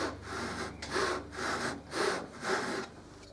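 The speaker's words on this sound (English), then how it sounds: "You can use either a fine saw or a half round file to cut the slide serrations." Half round file rasping back and forth across the slide of a Desert Eagle replica to cut serrations, guided along the top of a vise; six or seven steady, even strokes, close and clear with no voices.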